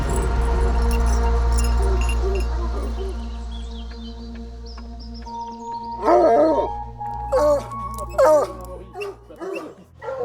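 Neglected hunting dogs kept in a forest in Dordogne bark and yelp in repeated bursts. A low steady hum and tonal sounds fill the first half before the nearby, loud barking takes over.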